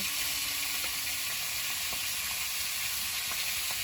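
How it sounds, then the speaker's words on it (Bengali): Boal catfish sizzles and crackles in hot oil in a pan, a steady quiet frying hiss with occasional small pops. "মাছটা ভাজা হতে হতে"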